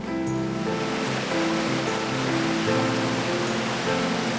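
A steady, roaring rush of falling water from DeCew Falls in St. Catharines, Ontario, fills the scene, constant and loud with no voices.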